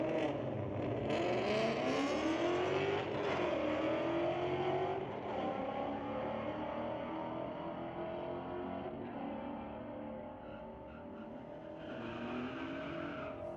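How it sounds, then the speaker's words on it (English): A 2014 Ford Mustang and a 1969 Dodge Dart drag race at Mission Raceway Park, the engines roaring loud and close as they accelerate and pass, then fade with the pitch dropping. "We pull up Graham McNeil in that 2014 Ford Mustang to race Chris Beardshaw in the 69 Dart."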